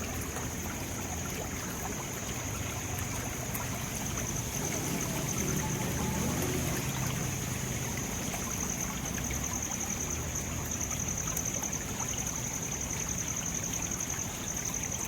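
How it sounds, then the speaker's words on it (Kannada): Dark, polluted water flows through a canal after rain, rushing and gurgling steadily, a constant flowing wash with a thin high whine running through it. "ಈ ರೀತಿ ಕಪ್ಪು ನೀರು ಬರ್ತಾ ಬರ್ತಾಯಿದೆ"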